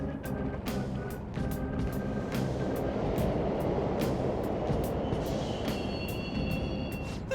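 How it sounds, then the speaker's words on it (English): Subway trains in the video game Persona 5 Royal rumble steadily and loudly throughout, with a continuous low mechanical roar, rhythmic clacks and a few high tonal squeals or beeps near the end. "The trains are totally running!"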